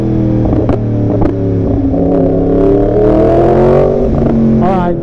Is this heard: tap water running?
no